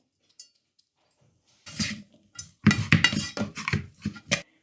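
Spoon scraping and clinking against a bowl as seasonings are mixed into cooked rice for onigiri, a quiet start followed by a run of irregular, close clattering strokes.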